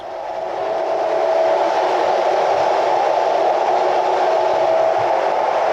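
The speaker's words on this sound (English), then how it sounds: "So it's pretty loud on the train." Steady, loud rumble and hiss fill the inside of a FlixTrain carriage on a long run from Berlin to Basel, a constant droning roar with no voices.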